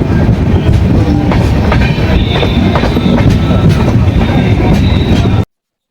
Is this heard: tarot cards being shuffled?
no